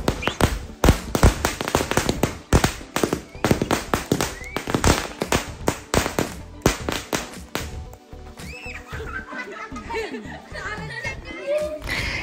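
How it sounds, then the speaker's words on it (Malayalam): Firecrackers set off on a family vacation visit burst in a rapid string of sharp, loud cracks, followed by scattered pops and squeals as voices and laughter rise near the end. "കുറച്ച് പടക്കമൊക്കെ മേടിച്ച് വെച്ചിട്ടുണ്ടായിരുന്നു മക്കൾ വരുമ്പോൾ പൊട്ടിക്കാനായിട്ട്. അപ്പോൾ അതൊക്കെ പൊട്ടിക്കുകയാണിപ്പോൾ."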